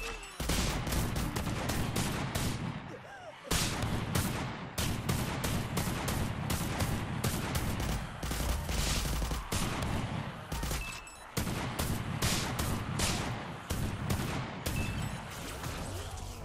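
Rapid bursts of Uzi gunfire while shooting zombies in the VR arcade shooter Dead Ground Arcade VR, loud and nearly continuous with brief pauses between volleys.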